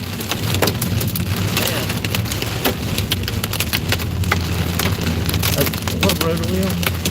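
Quarter-size hail falls during a supercell storm on a highway and drums densely on the surface close by. The impacts form a constant loud clatter with sharp individual hits, and someone speaks briefly over it.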